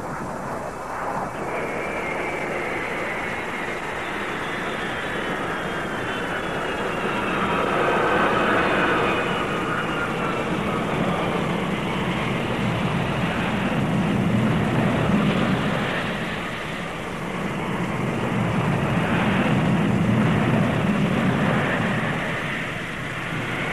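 Military aircraft on a runway, its engine roar swelling and easing in broad waves as it rolls out for takeoff, sustained and fairly loud with no voices over it.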